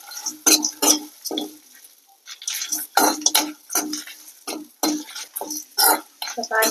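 Grated coconut and spices being dry-roasted in a pan for a village-style quail gravy make sharp, close scraping and clattering strokes in an irregular rhythm, with short quiet gaps between them.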